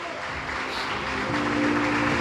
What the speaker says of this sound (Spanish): Aplaudirle fuerte al Señor.